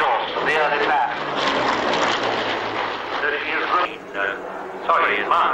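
A Supermarine Spitfire with its original three-bladed airscrew and ejector exhausts, flying at an airshow, gives a loud continuous engine roar. Someone talks over it throughout.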